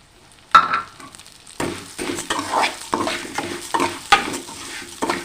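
Vermicelli (semiya) roasts in a pan, with repeated scraping stirs against the metal over a soft, steady sizzle, close and fairly loud.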